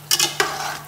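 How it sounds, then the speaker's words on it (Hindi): Browning mutton for a degi aloo shorba is stirred with a spoon in a pot. Two or three quick scraping strokes sound close over a continuous sizzle, with no talking. "साथ साथ मैं चम्मच हिलाती जाऊंगी"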